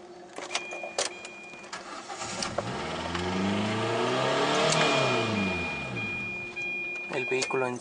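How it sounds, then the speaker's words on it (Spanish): A Hyundai Grand i10 with a standard transmission cranks and its engine starts, swelling into a rising idle roar up close, with a few clicks and key rattles before and after and a voice speaking over it. "Vehículo enciende"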